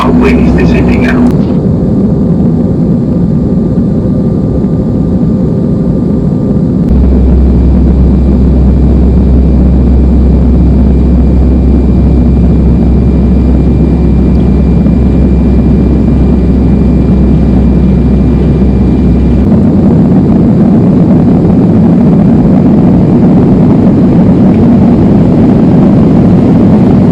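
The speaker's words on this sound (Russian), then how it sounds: "Ladies and gentlemen, our plane is descending now." Passenger airplane cabin during descent on a Red Wings flight, a loud steady engine roar with a deep low rumble that swells for a long stretch in the middle, and no voices heard.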